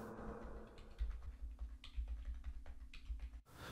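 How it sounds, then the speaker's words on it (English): Quiet, steady clicking of a computer keyboard as chords are typed into the Band-in-a-Box plugin, with a few sharper key taps and no talking. "Here I'm typing in some chords like I did before."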